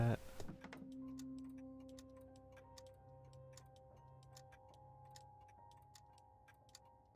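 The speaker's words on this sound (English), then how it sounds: "The sound of a bunch of clocks ticking like that is actually really, really like soothing to me." Many clocks tick together inside a room in the video game Sherlock Holmes: Crimes & Punishments, a steady overlapping clicking with faint sustained tones underneath and no talking.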